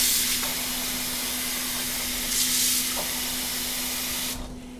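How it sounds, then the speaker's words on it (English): Water swished around in a bowl with Palmolive dish soap, a steady close hiss and slosh with a couple of brief louder surges, ending abruptly. "I'm going to fill my bowl, swish it around"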